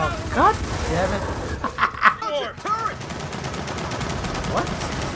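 Turret gunfire in Gears of War 4 sounds in quick bursts of rapid shots amid game effects, while players shout and talk excitedly over the action.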